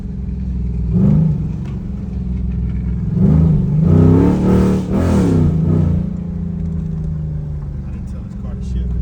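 A race car engine revs up in repeated bursts with an abrupt gear shift, loud and close at a track, while people talk over it.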